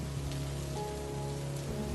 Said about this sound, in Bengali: যে জোরে বৃষ্টি শুরু হয়েছে দেখে তো মনে হয় এখনই থামবে না